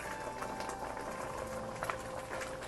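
Tamarind chutney water simmers in a pot, thickening as it reduces, with constant close bubbling and popping in an irregular patter, moderately soft and without talk.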